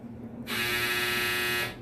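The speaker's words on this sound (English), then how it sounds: "That was my dryer going off." A clothes dryer's end-of-cycle alarm sounds as one steady, loud electronic buzz lasting just over a second, starting and stopping abruptly over a quiet room.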